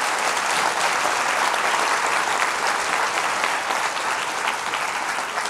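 An audience at a live debate event breaks into sustained, dense applause, loud and steady throughout with no pauses, filling the room with continuous clapping.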